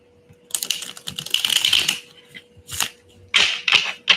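A deck of tarot cards is shuffled close up in quick riffling bursts: one long run, a short flick, then two more bursts separated by brief pauses.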